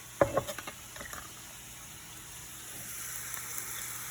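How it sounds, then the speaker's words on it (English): Chickpeas and corn land in a hot pan with a quick cluster of thuds and clatters at the start, then a faint, steady sizzle settles in; no talking. "So we're gonna do like about 2/3 cups of chickpeas. And just toss them in the pan. Same with the corn."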